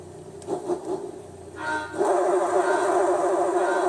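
A Lotus Esprit V8 SE engine in Gran Turismo 3 revs up, then settles into a loud, sustained high-revving drone as the car accelerates.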